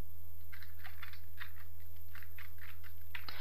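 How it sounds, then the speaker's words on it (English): Fingers type on a computer keyboard, a run of light, evenly paced keystrokes over a steady low hum, ending with a slightly firmer key press. "Now type here shutdown command"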